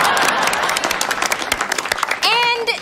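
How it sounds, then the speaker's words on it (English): Audience applause with scattered clapping and crowd noise for a couple of seconds, then a sudden whoop or whistle-like cheer near the end. "Hey, what, y'all forgot how to clap?"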